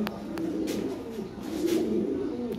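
Lahori pigeons coo in a low, continuous rounded murmur, several birds overlapping in a steady rolling drone held close to the microphone with no talk.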